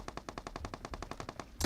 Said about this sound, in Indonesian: Ci, pohon, tembak